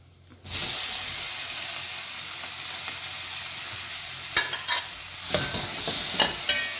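Chopped tomatoes hit a hot pan for paneer curry masala and burst into a loud, continuous sizzle and hiss, with a few sharper crackles and spatters near the end.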